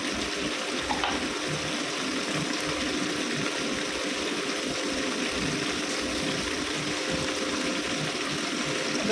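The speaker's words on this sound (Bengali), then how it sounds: "মাংসটা তুলে দেবো, জলটা আমি দিই না, জলটা ফেলে দেবো।" Water poured off raw meat into a sink, a steady, fairly loud rushing splash that runs continuously without pause and with no voices.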